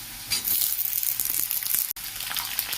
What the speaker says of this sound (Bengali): এটা 2 মিনিট মতন বেগুনটা ভালো করে ভেজে নেব।